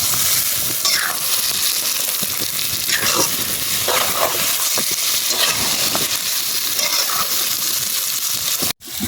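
Mutton frying and being stirred in a pan on an outdoor fire beside the Bhavanisagar river, a loud steady sizzle and hiss with scraping stir strokes throughout and no talk.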